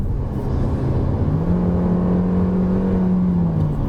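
A Hyundai Kona 2.0 engine hums and rises in pitch as the car accelerates on the road, a steady close whir heard from inside the cabin over constant road noise.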